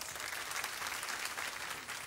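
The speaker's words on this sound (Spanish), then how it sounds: "Aplauso para participante número 2." A quiet, distant crowd gives a contestant at a singing impersonator competition a steady round of applause, heard as a dense, even patter of clapping throughout.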